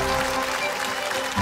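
A theater audience gives a steady wash of applause for 74 apprentices performing on stage at an evening show, with sustained musical tones underneath.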